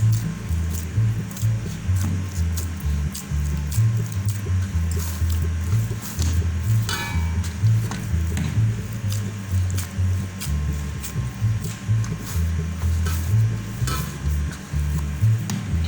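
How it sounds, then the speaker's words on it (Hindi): Wheat dough is kneaded and punched by hand, giving rhythmic soft squishing and slapping thuds at a close, moderate level, repeating steadily with no talking. "इसको अच्छी तरीके से गूंदेंगे।"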